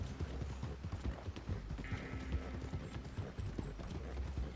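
Horse hooves clop in a steady, rapid rhythm throughout in the video game Red Dead Online, close and continuous over low rumbling ambience, with a brief tonal whine partway through.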